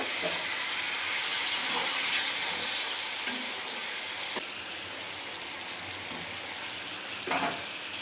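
Vegetables fry in a pan for a bata fish curry, giving a steady broad sizzling hiss that stays constant throughout, with a slight drop in brightness partway and a soft clatter near the end.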